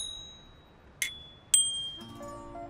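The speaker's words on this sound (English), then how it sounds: "I love my bells. They go ding ding." Two bright bicycle bell dings ring out in quick succession, each leaving a short metallic ring, followed by a faint tonal chime.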